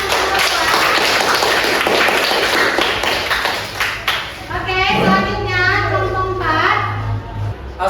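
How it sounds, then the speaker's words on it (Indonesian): Students in a geography classroom clap for a group's presentation, a busy burst of hand claps that fades into children's chatter and a sustained hum in the second half. "Oke, berikan tepuk tangan."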